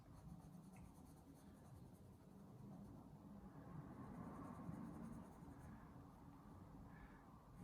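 A flesh-coloured pencil scratches across paper in a continuous soft scribbling texture, close and fairly quiet, with no talking.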